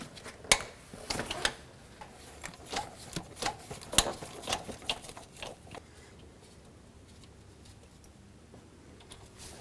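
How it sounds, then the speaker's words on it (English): A socket wrench with a 15 mm socket loosens a starter mounting bolt on a 2007-2010 Chrysler Sebring, giving a run of close, sharp ratcheting clicks that taper off into quiet after a few seconds. "this is one of the two mounting bolts, 15 millimeter socket. Let's take this one out."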